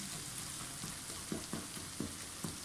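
Tomatoes and mixed vegetables fry in a pan with a steady, dense sizzle, punctuated by a few soft stirring knocks, close and alone with no talking.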